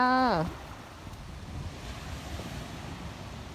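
Mediterranean sea waves wash onto a beach in Sicily, Italy, as a steady breaking surf mixed with gusty wind noise on the microphone, after a brief voice-like tone at the start.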